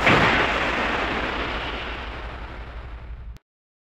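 A submarine torpedo launches from an external tube in a naval warfare game, a loud booming whoosh that starts abruptly and rumbles down over about three seconds before cutting off to silence.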